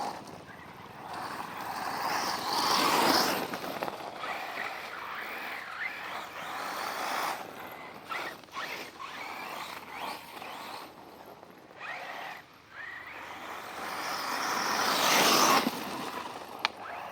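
A DF7 RC car with a 4274 800kv motor on 8S batteries runs on rough terrain, its whine rising loudly as it passes near, fading away, then surging close again, with rustling noise between.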